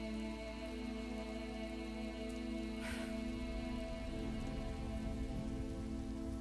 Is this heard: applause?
no